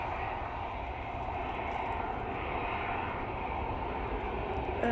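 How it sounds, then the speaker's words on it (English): A Ryanair Boeing 737-800 arriving at windy Manchester Airport, its engines a steady, fairly distant broadband roar that holds level throughout with no talk over it. "It's a Ryanair coming in from fake Brussels using the 737-800. It's literally on the runway by the looks of it."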